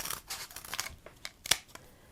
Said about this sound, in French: on va prendre un des morceaux du carton qui reste et les ciseaux, on découpe une bandelette